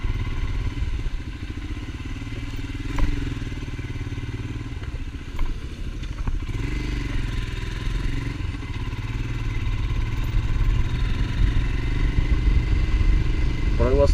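A new Royal Enfield Himalayan motorcycle engine rumbling steadily while riding, low and continuous throughout, with a voice faintly under the engine and wind.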